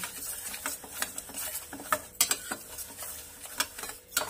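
Utensil scraping and stirring moong dal in a pan for a Bengali sweet, with irregular clinks and soft scrapes over a light sizzle, close by and fairly quiet.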